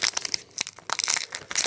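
Foil trading card pack for a Tekken card game being worked open by hand, giving close, irregular crinkling and crackling bursts with brief pauses, no talking.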